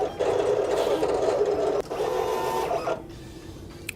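A vinyl cutting machine whirs and buzzes steadily for a few seconds as it scans registration marks on EasySubli sheet, with a brief dip midway before the motor noise stops.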